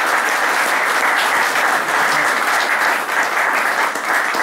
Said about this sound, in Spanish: Yo pido un aplauso para ellos.